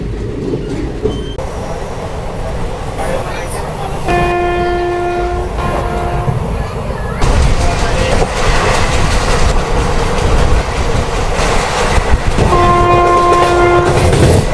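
The Nagarsol Chennai Express runs at speed on a nonstop stretch toward Aurangabad, a loud constant rail roar with clattering wheels, and its horn sounds in two sustained blasts.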